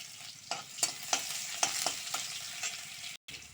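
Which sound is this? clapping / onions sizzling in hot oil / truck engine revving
onions sizzling in hot oil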